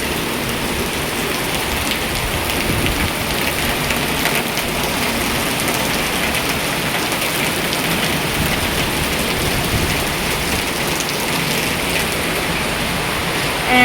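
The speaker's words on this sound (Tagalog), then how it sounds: "the rain is so heavy this afternoon" Heavy afternoon rain pouring down steadily outside a house terrace, a dense, constant hiss and patter with no letup, loud and close throughout.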